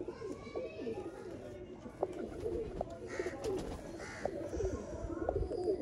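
Sialkoti pigeons coo in repeated low, throaty bursts with faint chirps scattered throughout, set against a busy background where someone talks over the birds.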